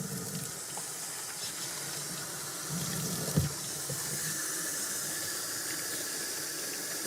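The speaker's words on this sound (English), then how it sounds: "I'm going to use a paper towel to turn the water on." Tap water runs steadily into a washbasin, a continuous close hiss and splash with a brief bump partway through. No talking.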